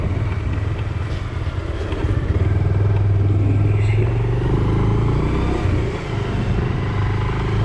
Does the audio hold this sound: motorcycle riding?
yes